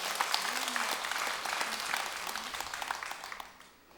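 Audience clapping at a Sunday Buddhist dharma talk in a temple, a burst of hand claps that thins out and fades toward the end, with a faint voice briefly underneath.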